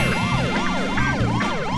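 A police car siren wails in The Simpsons: Hit & Run, looping up-and-down sweeps repeating roughly every half second, loud and steady over game engine and background noise.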